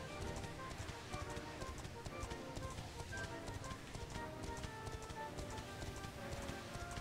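A horse gallops in the video game Dragon Quest 11, a steady quick clip-clop of hooves under game music, moderately loud and continuous.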